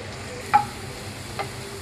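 Chopped garlic frying in oil in a pan for red sauce pasta, heard as a soft, steady sizzle with a few faint clicks of a utensil against the pan.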